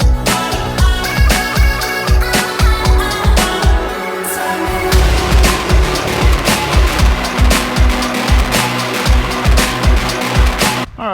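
Jule 2812B 1/20 scale two-wheel-drive RC truck driving outdoors, with a steady whining electric motor and chattering wheels held close and loud for the whole stretch, briefly surging and shifting pitch partway through.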